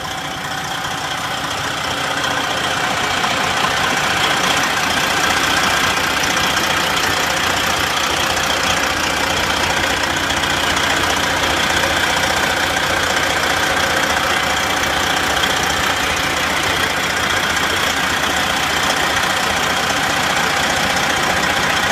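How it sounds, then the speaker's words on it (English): A 2005 Western Star 4964 highway tractor's engine idles close by, a loud, steady diesel rumble with a faint knocking texture that runs unbroken for over twenty seconds with no talking. "Engine sounding very good."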